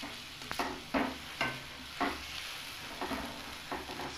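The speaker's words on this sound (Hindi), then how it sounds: "4 मिनट पूरी अच्छी तरह भुनाई करेंगे इसमें घी में" Chicken masala for a black pepper desi chicken karahi fries in ghee, with a wooden-sounding spoon scraping through it in steady strokes roughly every half second over a continuous close sizzle; no one speaks.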